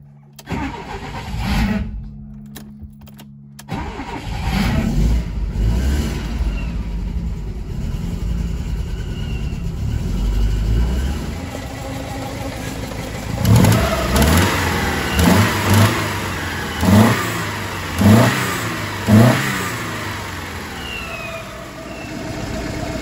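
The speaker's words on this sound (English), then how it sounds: "just start it up and get all of that warm so we can get it drained" An Alfa Romeo Alfasud engine cranks over a few times, catches, and settles into a close, loud idle that warms up, with several sharp revs blipped toward the end.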